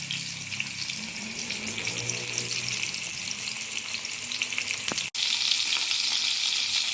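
Fish coated in egg frying in a hot pan for a fish curry, giving a steady, close, hissing sizzle throughout with one sharp pop just past the midpoint.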